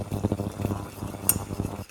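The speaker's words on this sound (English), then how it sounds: "So I'm just whisking." A whisk clinks and scrapes rhythmically against a pan of milky lasagne sauce, with rapid, steady strokes at moderate volume, a brief sharp clink partway through, and no talking.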